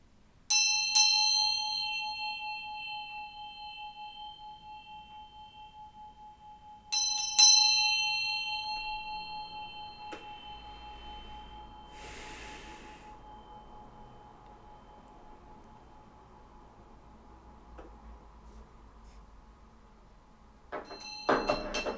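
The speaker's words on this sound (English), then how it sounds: "We're gonna ring this bell." A small hand bell struck to ground energies rings out three times with bright, clear metallic strikes, each leaving a long shimmering tone that slowly fades in a quiet room, with faint handling noise between.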